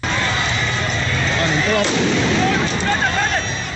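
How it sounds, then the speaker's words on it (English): A blast near a political opposition leader's campaign convoy in Uganda, heard as a loud, sustained rumbling boom with a sharp burst partway through, alongside dense crowd-like noise. "Suddenly, a yet-to-be-identified object exploded meters away from him."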